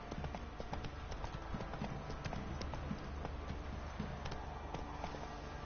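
A horse gallops in The Witcher 3, fast, even clip-clop hoofbeats in a steady running rhythm, quiet and continuous with no talking.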